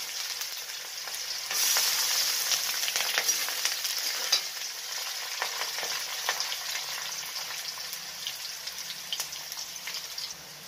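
Onion frying in hot oil, a steady close sizzle with scattered crackles and pops that swells slightly early on, no talking.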